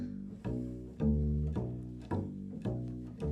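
A plucked bass walks through a steady line of distinct low notes, one per beat, clear and close with no other instruments.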